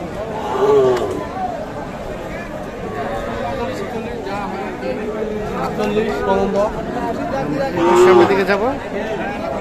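Cattle lowing at close range at a cattle market, a few drawn-out moos from bulls rising over a busy crowd of people talking and milling about.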